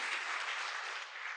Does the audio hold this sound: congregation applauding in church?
yes